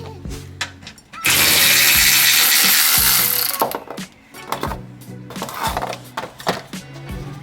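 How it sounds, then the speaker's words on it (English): Wrenching out 10mm bolts on a Nissan GTR R35 in a garage, with sharp clicks and clanks, a long loud burst of rushing noise partway through, then scattered metallic knocks and rattles close by. "we have to remove this 10mm bolts"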